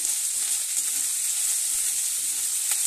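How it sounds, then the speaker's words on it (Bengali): Ginger frying in a pan for papaya chicken curry, a steady close sizzle with light spattering crackles, continuous and even, no voices. "আদাটা ভালো করে আমি ভেজে নিচ্ছি। দেখো, আদাটা ছিটকে আসছে, আমি নাড়তে পারছি না।"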